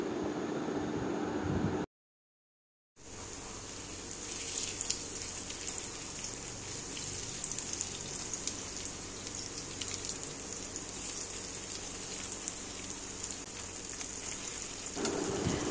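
Potato cutlets sizzle steadily on a non-stick tawa, a dense, even crackle of frying oil that carries on close and unbroken after a brief drop-out near the start.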